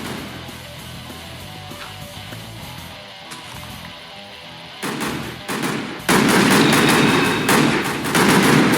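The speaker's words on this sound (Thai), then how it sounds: "เกิดการยิงหลายจุดเลย" Rapid video game gunfire crackles in a loud burst from several directions, starting sparse and growing into dense, sustained automatic shooting with no talk over it.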